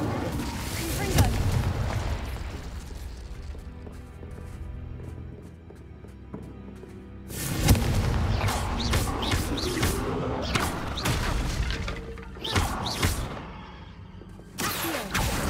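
Confringo, a fiery explosive spell in Hogwarts Legacy, sets off repeated booming blasts and crackling bursts in dense bunches, loud and close, with a quieter rumbling lull partway through and game sounds filling the gaps.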